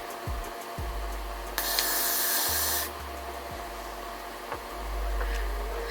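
Hair spray hisses from a can in a close burst of about a second, with quiet handling rubs and a low bumps around it, while someone gets ready to style 4C hair into a slick ponytail.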